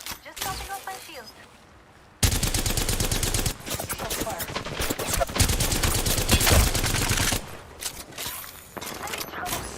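Gunfire in a shooter video game: heavy overlapping automatic bursts and shots, loud and close, start after a quieter opening and carry on almost continuously, with brief game voice lines heard around them.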